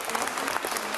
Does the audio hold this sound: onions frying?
no